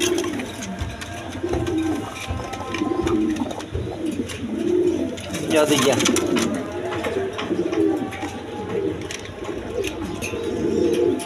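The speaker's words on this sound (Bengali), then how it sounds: "দর্শক এইখানে এক পেয়ার বিউটি কবুতর আছে দেখেন," A pair of Beauty breed pigeons coo in a steady rolling rhythm close by, the low throaty calls repeating throughout with a few faint chirps and no speech.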